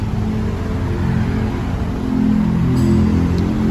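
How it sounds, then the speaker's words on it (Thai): Mazda Tribute engine running after a remote start, a steady close idle hum that swells slightly partway through. "เครื่องยนต์ก็จะสตาร์ทติดนะครับ"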